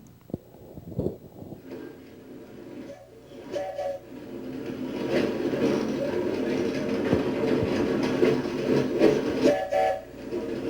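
Heavy electric freight train on the BC Electric Railway grinding up a 3% grade, a loud, steady broadband rumble and rolling roar that builds and stays close throughout, with brief tonal squeals rising above it.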